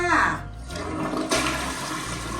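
A home toilet flushes with a loud, close rush of gushing water that swirls and drains steadily through the whole moment.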